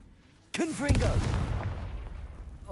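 A Confringo blasting spell goes off in the Hogwarts Legacy video game: a sudden sharp explosive burst followed by a rumbling blast that fades gradually over the next two seconds, loud and close.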